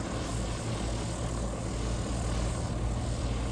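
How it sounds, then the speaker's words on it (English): A steady propeller-like buzz from a drone overhead in Gaza, constant and moderately distant, with no talking. "So that moment, I realized it was a drone."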